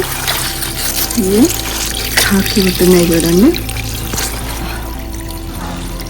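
A voice talks over a steady wash of water pouring and splashing close by into plant pots in a home garden.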